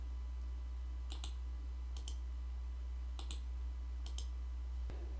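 Computer mouse clicking in pairs, four or five crisp double clicks spaced about a second apart over a low steady hum, with no talk.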